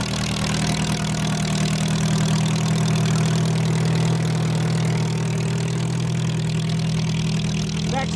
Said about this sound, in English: Chester Morris is coming up with his 1942 International M